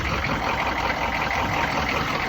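A Humvee engine runs at a steady idle, giving a continuous, dense broadband rumble and hiss that stays even and close throughout with no voices.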